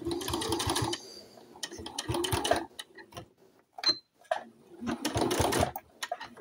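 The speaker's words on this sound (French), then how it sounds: "je me place tout au bord et je fais ma piqûre à 1 ou 2 mm" A sewing machine runs in bursts, stitching close to the edge of a fabric wipe with a 1 to 2 mm seam, several whirring runs separated by short pauses and small clicks.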